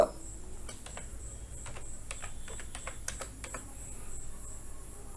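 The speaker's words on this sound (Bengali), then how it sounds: "এই মোবাইল নাম্বারটা এখানে টাইপ করব" Soft, irregular clicks of typing on a computer keyboard, a scattered run of keystrokes over a low steady hum, fairly quiet and close.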